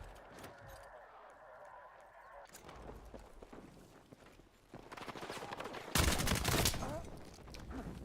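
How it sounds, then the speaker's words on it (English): Gunfire from a gunfight in the video game Battlefield 6, with an AK rifle in use: bursts of shots and loud impacts swelling near the end, heard under and between a player's talk. "I would have won that gunfight if I didn't have the AK"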